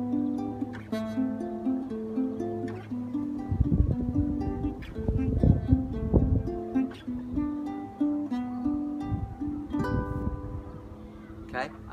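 A guitar plays a repeating thumb-and-finger picking pattern, thumb 1, 2, 1, as plucked notes ring out in a steady rhythm, close and clear with no talking.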